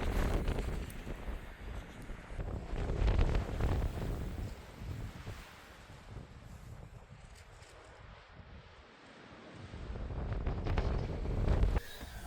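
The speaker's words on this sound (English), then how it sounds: "It got windy again." Gusty wind buffets the microphone in loud, uneven rushes, easing briefly before surging again near the end.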